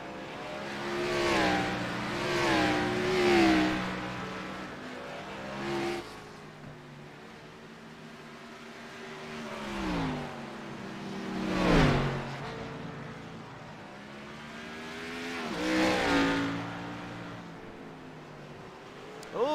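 Video game Ford Cup cars race at the Charlotte Roval, engines revving and passing in repeated swells, several cars roaring by at varying distances with occasional loud close passes.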